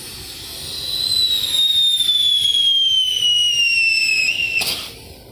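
A firework sparkler fountain hisses and crackles for several seconds, with a high whistling tone that slowly drops in pitch before it sputters out.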